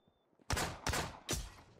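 Three loud, sharp hunting rifle shots in the survival video game Miscreated, evenly spaced less than half a second apart, each with a short echoing tail, heard alone against a quiet background.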